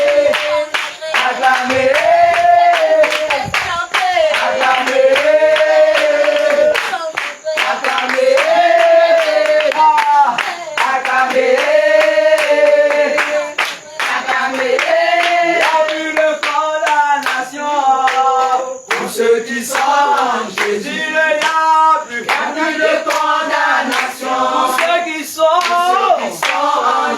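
Steady rhythmic clapping from a church worship congregation in Côte d'Ivoire, loud and continuous under energetic group singing and music throughout.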